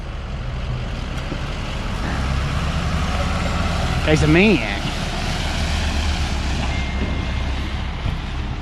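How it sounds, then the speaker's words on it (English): A flatbed truck pulls away after dropping off a load of steel channel, a steady broadband engine rumble with a brief rise in the middle, while someone speaks briefly over it. "the truck just left"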